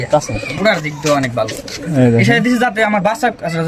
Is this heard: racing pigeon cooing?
yes